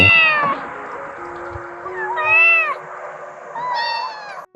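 Several high, thin kitten meows come in short bursts, one after another, fairly close, over a faint steady background hum.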